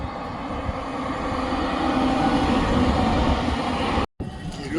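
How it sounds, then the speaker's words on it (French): A tram crossing a bridge over the Elbe in Dresden gives a steady, broad rumble that holds loud and even for about four seconds, breaks off in a brief dropout, then carries on. "Il y a le tram qui passe."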